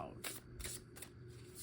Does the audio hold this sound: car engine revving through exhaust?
no